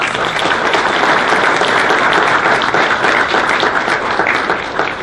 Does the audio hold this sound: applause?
yes